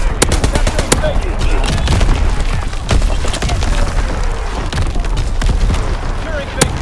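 Dense, loud gunfire and artillery booms in a Call of Duty: WWII domination match on the Shipment 1944 map, with rapid machine-gun bursts and sharp explosive cracks over continuous battle noise and radio-style voice callouts.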